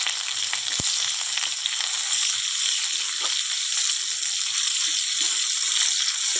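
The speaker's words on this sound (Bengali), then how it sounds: "তো পেঁয়াজ কুচি দিয়ে দিলাম" Chopped onions sizzle and crackle in a very hot, scorched wok, a steady dense frying hiss throughout with a sharp knock near the start.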